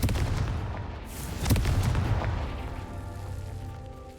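A Confringo fire spell blast in Hogwarts Legacy, a single booming burst near the middle that fades into a rumbling decay, fairly close and alone.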